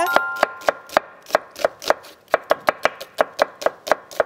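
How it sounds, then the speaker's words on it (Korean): Knife thinly slicing an onion on a cutting board, a quick regular series of sharp close taps, about four per second, with no talk. "양파 얇게 채 썰어 줄게요"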